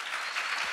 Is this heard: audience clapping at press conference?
yes